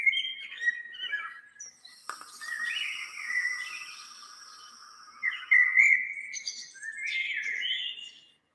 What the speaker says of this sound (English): We got the birdies chirping.